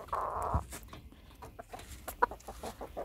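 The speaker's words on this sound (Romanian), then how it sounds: "arătăm și așa doi cocoșei și puicuță" Bantam roosters and a bantam hen cluck and call in a farmyard, a string of short close clucks with one brief louder squawk.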